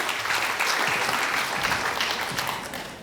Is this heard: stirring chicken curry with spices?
no